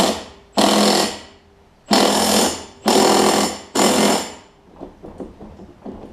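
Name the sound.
impact wrench tightening mower flywheel bolt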